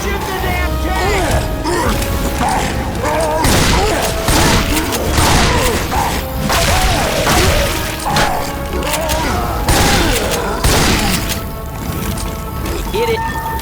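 Rapid, loud gunfire aimed at the Tank in the Left 4 Dead 2 Dark Carnival campaign, dense continuous bursts layered with heavy impacts and game clatter.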